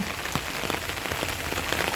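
Heavy rain during flooding, a dense, steady patter of drops striking surfaces close by, loud and continuous with no voices.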